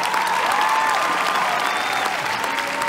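A live audience applauds and cheers in a hall at a Hollywood-related faith event. The clapping is loud, dense and sustained and carries on without a break.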